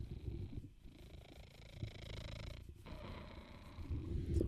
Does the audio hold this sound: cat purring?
yes